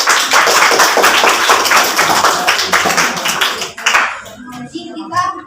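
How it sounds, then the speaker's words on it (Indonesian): An audience of children in a classroom setting claps together in a loud, rapid burst that fades out after about four seconds, followed by a few scattered claps and a voice speaking. "Oke, bagus tepuk tangan."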